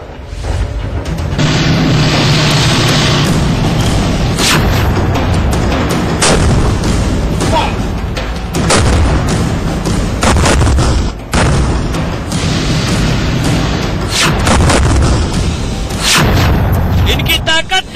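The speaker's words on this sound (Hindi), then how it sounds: "सेना ने अपने सबसे ताकतवर टैंकों से गोले दागे, मिसाइलें छोड़ी और सैकड़ों राउंड फायरिंग भी की।" Army tanks fire shells with hundreds of rounds of gunfire during a military exercise, loud booms and sharp repeated blasts sounding over a constant heavy rumble that runs nearly unbroken throughout.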